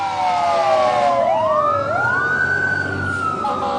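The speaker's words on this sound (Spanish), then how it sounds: "se escuchó el sonido de varias sirenas que anunciaban el paso de ambulancias y camiones de bomberos" Several emergency sirens from passing ambulances and fire trucks wail loudly at once, their rising and falling tones overlapping above steady street traffic noise.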